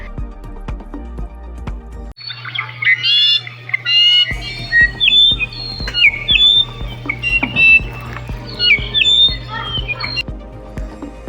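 A nectar-feeding bird gives rapid, high squeaky chirps and twittering squawks in bursts, close and clear over a steady low hum and scattered clicks.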